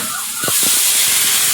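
Water hits a hot pan of fried taro and erupts into a loud, steady hiss and sizzle that holds right to the end, with a few short clanks as it starts.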